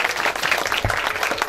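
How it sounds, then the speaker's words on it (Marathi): Audience at a welcome ceremony claps together in a dense, loud, continuous burst of applause close by, with a faint voice briefly underneath. "सर्वांनी टाळ्या वाजवायच्या."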